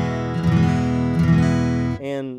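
Custom-built OM style acoustic guitar picked close to the bridge, giving bright ringing notes and a sustained strummed chord that rings out, then a final short chord, with no talking.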